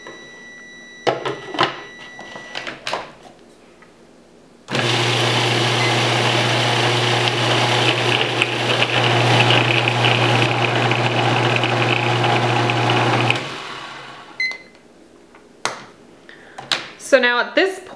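A food processor blends coconut into coconut butter, running as a loud steady motor whir with a low hum for about nine seconds before stopping, with clicks and handling sounds before and after and someone speaking.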